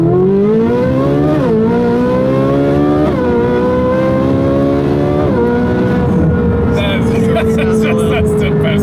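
A 2015 Ferrari 458 Speciale engine with IPE full-system headers, decat and exhaust revs repeatedly, pitch climbing and dropping in loud aggressive pulls with a raspy exhaust note, close by.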